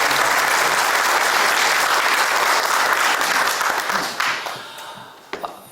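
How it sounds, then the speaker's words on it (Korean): Audience at a Presbyterian men's fellowship prayer breakfast applauds to welcome an elder, a dense, steady burst of clapping that holds for several seconds and then thins out to a few scattered claps near the end. "인사하실 때 박수로 환영하도록 하겠습니다"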